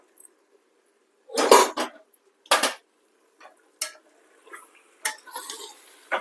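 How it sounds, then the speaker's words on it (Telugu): Gongura leaves added to a pot of Telangana-style mutton curry and stirred, with a few scattered metal spoon scrapes and clanks against the pot, close and intermittent over quiet background. "ఇప్పుడు గోంగూర వేసేస్తున్నాను."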